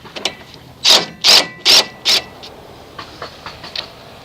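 Wrench with a 13 mm socket loosening the sway bar end link on a 1989 Chevy K1500 Silverado, heard as four loud evenly spaced ratcheting bursts up close, followed by fainter scattered clicks.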